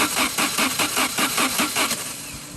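A Saab car engine running just after a remote start, a steady close chugging rumble with a regular pulsing beat that eases slightly toward the end; no talking.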